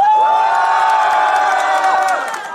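Fans of a trot singer cheer loudly at an autumn outdoor music concert in Cheongna International City, a sustained crowd roar with high whoops and a long sung or shouted tone running through it, fading slightly at the end.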